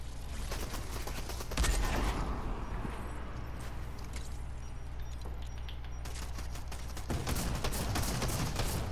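Fortnite battle royale gunfire, sharp rapid shots in clustered bursts at the start and again near the end with a loud crack early on, over steady game ambience and a low hum.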